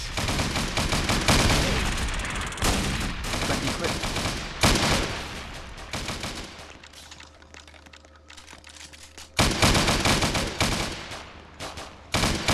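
Rapid bursts of gunfire in a Roblox prison riot game, sharp crackling shots in clusters across the clip, interrupted by a quieter stretch with faint tones.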